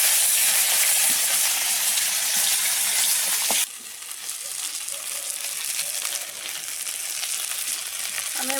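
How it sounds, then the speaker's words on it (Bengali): Lata fish frying in hot mustard oil in a home kitchen pan, a loud steady sizzle that drops sharply partway through to a softer, crackling hiss. "এবারে মাছ ভাজবো, ল্যাটা মাছ"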